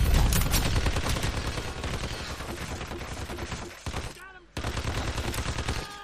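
Dense gunfire from a firefight in the stealth action game Hitman Absolution, loud and continuous bursts filling the clip, with a short lull near the end before the shooting resumes.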